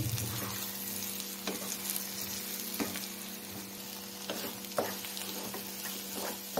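Beaten eggs with salt frying in a hot pan give a steady close sizzle, broken by several sharp scrapes of a spatula stirring the mixture, with no talking.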